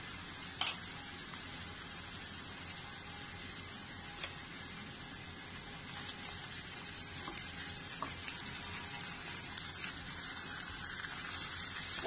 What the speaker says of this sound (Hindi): अब हम इसमें अपना मटन ऐड कर देंगे।